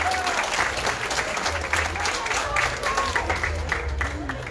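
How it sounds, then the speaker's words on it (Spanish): Sustained applause from a crowd at a Morena/Encuentro Social party political rally, steady dense clapping throughout with a low hum and voices underneath. "Fuerte el aplauso, por favor,"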